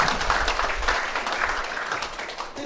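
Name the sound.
church congregation applauding for God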